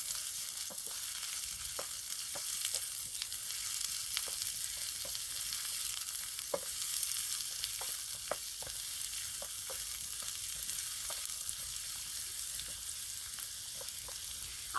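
Onions frying in a pan for a village-style chicken liver fry, a soft continuous sizzle with scattered scraping clicks of a spoon stirring, fairly quiet and without talk.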